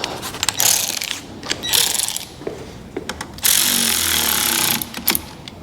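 A ratchet tightens the battery terminal on a Kia Ceed GT-Line in a series of short, close, rasping clicking bursts separated by brief pauses, with no talking.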